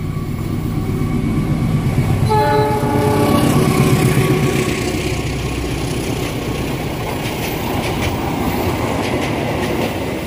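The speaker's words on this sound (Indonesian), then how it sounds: "Kereta api argois dari stasiun Bandung tujuan akhir stasiun Surabaya Gubeng melintas langsung stasiun Cicalengka" An Argo passenger train bound from Bandung to Surabaya Gubeng runs straight through Cicalengka station without stopping, a loud, close, continuous rumble of wheels and cars with a horn-like tone sounding early on.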